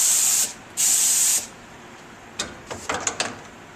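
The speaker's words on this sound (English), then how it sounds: "I go and I spray my next layer." Two long bursts of hissing spray from an HVLP spray gun applying glaze to a piece, followed by a few light clicks and clatters.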